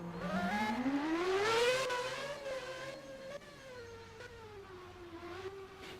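A race car at a time attack event at SNGP pulls out onto the track, its engine rising and falling in pitch as it revs through gears, moderately close and steady with no talk over it.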